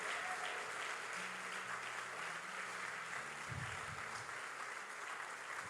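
A church congregation applauds during a sermon, a steady, dense wash of clapping that fills the space for several seconds, with a low murmur of voices underneath.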